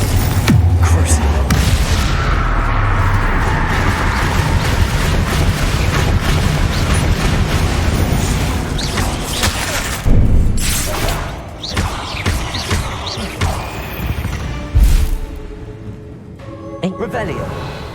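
Spell explosions in Hogwarts Legacy gameplay: dense booming blasts and crashing impacts fill the fight, with a few sharper bursts later, while a voice calls out spell names over it.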